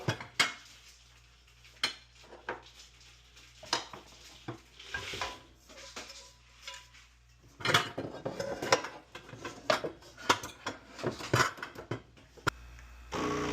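Dishes and cutlery clatter and clink in irregular bursts, with plates knocking together as they're loaded into a dishwasher, nearby and moderately loud, no talking.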